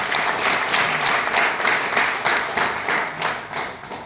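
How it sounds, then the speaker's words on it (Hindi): Loud, dense applause from a business training audience, steady clapping with rhythmic swells, close and continuous with no talking. "नेटसेफ के साइंटिस्ट के लिए जोरदार ताली चाहूंगा।"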